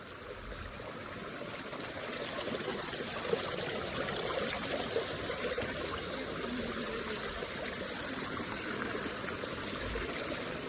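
Steady rushing and burbling of a flowing stream in Shivapuri Nagarjun National Park, Nepal, continuous and fairly loud throughout with no voices.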